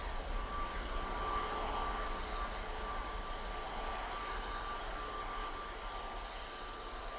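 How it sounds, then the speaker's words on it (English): An Emirates airliner taxiing back along the runway at Manchester Airport gives a steady, broad jet-engine roar with a faint whine, holding level and easing off slightly near the end. "We'll get the Emirates as it tracks back"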